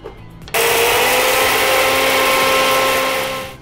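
A mixer grinder spins up abruptly and runs dry-grinding curry leaves masala, a loud, steady high whir with a gritty edge that holds for about three seconds before winding down.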